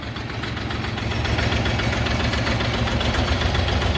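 An Orion 244 tractor engine runs steadily while it lifts the hitch, a loud, close diesel rumble with a constant chugging pulse and no speech.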